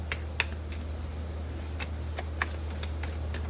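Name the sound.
tarot cards being shuffled for a reading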